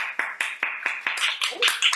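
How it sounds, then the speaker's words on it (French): Audience applause after a speech at a speaking contest, a run of evenly spaced crisp claps that thickens into a denser patter toward the end, fairly close and clear. "Applaudissements."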